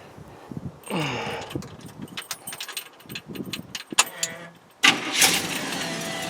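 A 1930 Ford Coupe engine cranks and fires at close range, followed by a steady running idle, with small clinks and jangles of keys mixed in before the motor catches.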